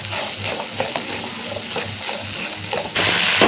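Spice paste loosened with water sizzles and fries in hot oil while being stirred, with a steady close crackle, rhythmic scraping strokes and a louder hiss burst near the end.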